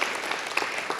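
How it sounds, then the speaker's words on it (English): Audience at an arts event giving a round of applause for donors, a dense, even wash of many hands clapping with no voices. "round of applause"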